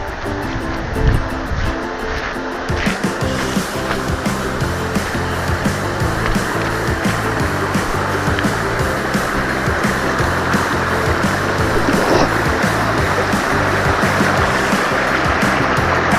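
Steady rushing stream water roars continuously and fairly loudly over rocks, a dense wash of flowing noise with no voices.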